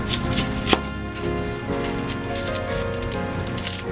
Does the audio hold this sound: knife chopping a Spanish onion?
yes